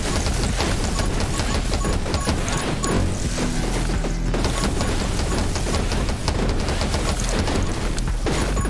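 Dense, continuous gunfire and impact crashes from the top-down survival shooter 20 Minutes Till Dawn, a loud unbroken barrage of rapid shots and smashes with no pauses.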